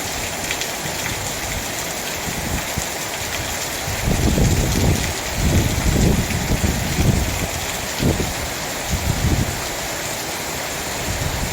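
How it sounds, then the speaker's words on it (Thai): Steady heavy rain pours down while strong gusts of wind buffet in bursts, loud and close, with no voices. "ฝนทั้งลมทั้งฝ่าเลยครับตอนนี้"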